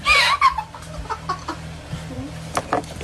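A voice imitates a rooster's crow in a loud burst, followed by scattered clucking noises and light laughter nearby.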